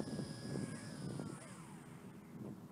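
A JJRC H16 quadcopter descends to land in strong wind, its motors whining in a thin tone that slides downward as it slows, over a rough, gusty rumble.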